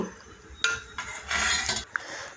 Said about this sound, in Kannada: ಹಾಗೆ ಮುಚ್ಚಳವನ್ನು ಮುಚ್ಚಿ